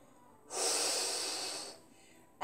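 A single long, close inhale lasting over a second during a triceps strengthening workout, breathy and steady, set against near silence with no talk.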